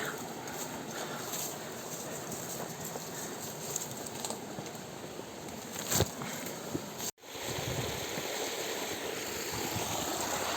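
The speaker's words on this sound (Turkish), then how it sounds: "Bazı noktalarda sulak dere kenarından doğru geçiyoruz" A stream in Ballıkayalar Canyon, Gebze, Turkey, rushes and babbles steadily nearby, a continuous watery wash with a brief dropout partway through.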